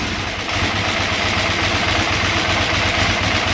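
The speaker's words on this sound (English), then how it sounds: "Now I can rev it up, but watch what happens when I try to let it go back to idle." A 2008 KTM 990 Adventure motorcycle engine with a fault that keeps it from idling unless in neutral runs loud and close, a steady dense roar holding nearly level throughout with no clear drop to idle.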